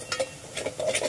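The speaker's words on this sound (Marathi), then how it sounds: "छान मसाला परतून घेऊया आपण" Homemade masala gets stirred and sautéed in a pan, a few quick soft scrapes and light clinks of a spoon against the metal, faint and close, in a short rhythmic run.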